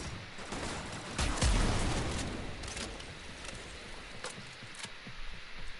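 Arca Plasmor shotgun firing in Warframe against Corpus and Grineer enemies, a series of roughly evenly spaced noisy blasts with a heavier boom near the start, over a dense wash of combat noise.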